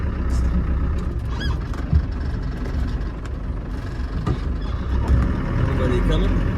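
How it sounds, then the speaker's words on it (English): 1995 Land Rover Defender 90 with the 300Tdi diesel engine driving in first gear, a steady low diesel drone with occasional knocks and rattles, heard from inside with someone speaking. "The engine sounds great."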